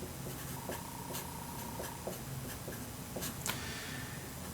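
A pen scratches out a physics equation by hand during a lesson on Newton's laws in rotation, with short, close, scratchy strokes and taps following one another steadily, and no voices.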